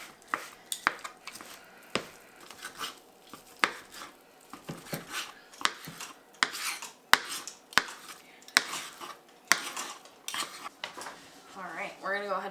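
Tender cooked chicken is cut into smaller chunks with utensils, producing irregular sharp clinks and taps of metal on a dish or board, close and fairly quiet, with brief speech near the end.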